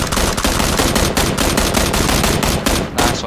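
Rapid automatic gunfire in the PUBG battle royale game, loud, dense bursts of shots rattling almost continuously for a few seconds, with brief gaps between volleys and no talking.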